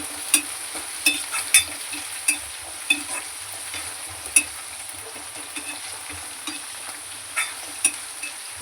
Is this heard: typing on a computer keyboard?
no